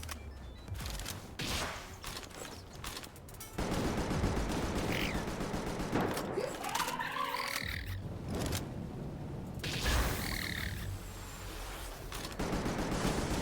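A gun fires in Palworld with rapid, crackling bursts of shots broken by short pauses, loud and close amid other game sounds.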